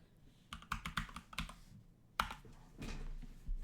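Typing on a computer keyboard during a gaming stream, with bursts of quick, close key clicks, a pause, then a harder keystroke and another run of typing.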